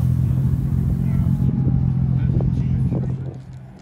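A BMW M2 with OZ wheels rolls in at the Oulton Park racetrack, its engine a steady loud low drone that eases off toward the end, with no one talking.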